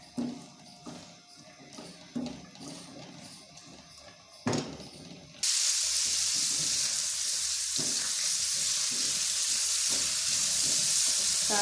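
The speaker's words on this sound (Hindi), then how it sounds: "इसे गर्म करने के साथ ही इसमें प्याज जाएगी जो हमने सेपरेट करके रखी हुई थी थोड़ी सी।" Onion drops into hot oil for a moong daal and erupts into loud, steady sizzling frying that continues to the end, after a stretch of softer kitchen clatter and knocks.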